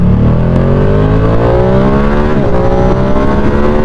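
A Ducati Streetfighter V2 motorcycle with its L2N engine accelerating hard, a loud continuous engine roar with rising harmonics climbing in pitch through the gears, close to the rider with no talk over it.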